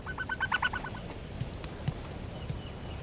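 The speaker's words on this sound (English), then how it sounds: "I heard a bird." Brief burst of rapid gobbling, turkey-like bird calls in a video game, a quick string of warbling notes at the start, then fading into steady background ambience with faint ticks.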